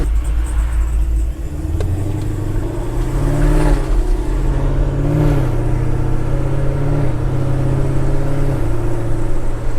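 An 800 HP Chevrolet Camaro street car accelerates hard, its deep engine rumble climbing through the revs in steady, loud surges with a constant low drone from start to finish.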